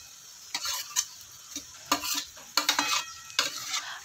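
Chopped pieces of atta dough are added to boiling water and stirred. The result is a series of sharp splashing and scraping bursts at an uneven rhythm, close by, with no voices.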